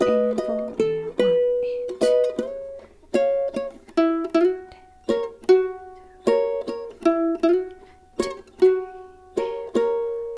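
A ukulele plays a passage of a song, with clear plucked notes and strummed chords in a steady rhythm, heard up close and alone.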